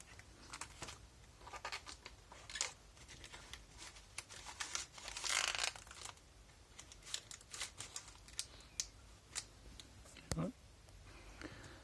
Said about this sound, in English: So I just removed the plastic.